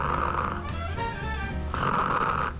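A man imitates snoring with his voice, giving two long rasping snore-like inhales separated by a brief pause, close and loud with no other talk.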